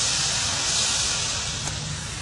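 Broth hits a hot pan and boils with a loud, steady steaming hiss and spitting, close and continuous for the whole stretch.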